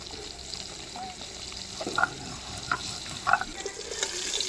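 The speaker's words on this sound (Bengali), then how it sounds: "এবার মাছগুলো ভেজে নিচ্ছি।" Bata fish fry in hot oil in a wok with a steady close sizzle, broken by a few sharp clicks and spatters as the pieces are turned.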